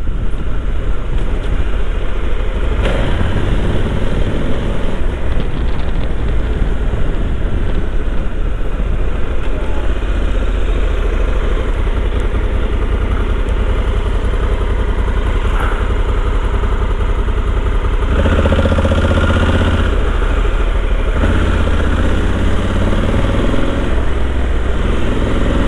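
A motorcycle engine runs steadily and loudly throughout as the bike rolls up to the barrier at a vehicle technical inspection station, with the rumble shifting slightly near the end.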